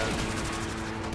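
Gunfire in the Warframe video game, a dense rapid rattle of shots, loud and continuous through the brief moment.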